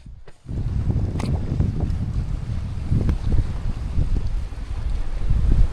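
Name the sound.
wind blowing on a secluded Croatian island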